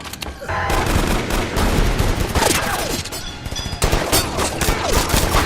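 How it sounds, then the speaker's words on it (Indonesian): Many guns fire at once in a ninja action film scene, a dense, loud fusillade of overlapping shots and bursts with crashes, continuous throughout with no pauses. "Yakuza dan anak buahnya mengambil senjata dan menembak ke segala arah."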